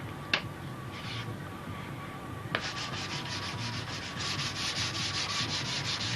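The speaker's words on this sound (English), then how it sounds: "then you could finish it up with a sanding block" Steady scratchy rubbing of a worn sanding block on wood, shaping model airplane flaps, continuous and close, growing a bit louder midway, with a couple of sharp knocks early on.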